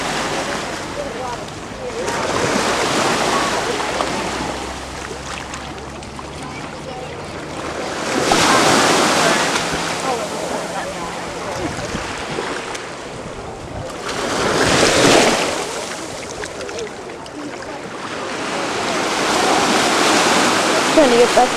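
Ocean surf rolls onto a Hawaiian beach with turtles nearby, with broad swells of wave wash building and fading roughly every six to seven seconds under steady wind noise on the microphone.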